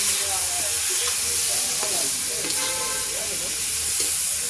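Ground spice paste and banana blossom sautéing in a pan, with a steady close sizzle and hiss throughout and a few light scrapes of a spatula stirring.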